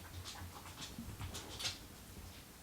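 Dogs whimper and pant close by during an at-home makeup session, with soft rhythmic breathy panting and faint whines mixed with light rustling and handling noise.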